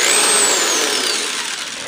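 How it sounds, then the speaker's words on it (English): Power drill spinning a sanding wheel against sandpaper on a table, a steady loud whirring grind with a high whine that slowly falls in pitch and fades over about two seconds. "I have a sanding wheel on my drill."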